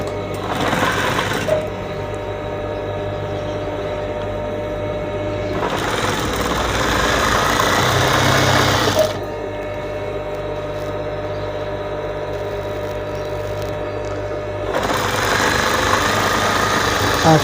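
A sewing machine stitches window curtain fabric, its loud, close mechanical whirring running in three sustained bursts separated by quieter, lower-humming pauses, with no talking.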